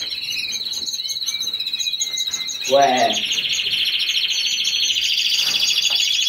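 Pet birds kept for breeding chirp and trill nearby in a steady, high-pitched chorus, with a voice speaking briefly over them.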